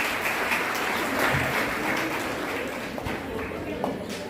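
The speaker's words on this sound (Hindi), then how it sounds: "तालियां बजाइए जोरदार।" An audience at a women's employment event in Aurangabad claps for a named beneficiary. A dense, even wash of applause holds steady over a few seconds at moderate volume.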